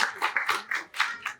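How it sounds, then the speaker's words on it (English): A small audience at a community festival event claps for itself, a short burst of uneven, separate handclaps from a handful of people nearby. "Give yourselves a round of applause."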